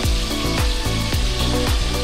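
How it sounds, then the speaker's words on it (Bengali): Hilsa fish frying in a kitchen during Ranna Puja preparations, giving a steady loud sizzle of hot oil with rhythmic clattering strikes about every half second, likely a spatula turning or stirring in the pan, close and with no voices. "এই ইলিশ মাছ ভাজা হচ্ছে।"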